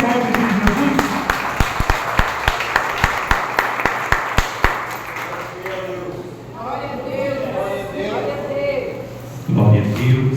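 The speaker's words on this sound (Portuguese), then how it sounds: "vamos receber o servo, Senhor, com as palmas, em nome de Jesus" A church congregation at a fifth-anniversary evangelical service claps in a steady, evenly spaced rhythm to welcome the preacher. The crisp beats run for several seconds, then give way to someone speaking.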